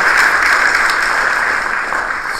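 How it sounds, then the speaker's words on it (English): Conference audience at a senior-level meeting on development cooperation giving a warm round of applause as a speaker comes up, loud, continuous clapping that tapers slightly toward the end. "A warm round of applause as he comes up, please."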